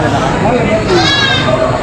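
Goats bleating at a livestock market where goats and sheep are sold, a couple of short tremulous calls rising over loud, continuous close talk and crowd noise.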